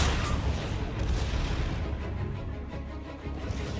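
Gunfire from Harley Quinn in a Batman video game, a steady dense rumble of distant shots and booms filling the whole stretch, moderately loud with no clear talk.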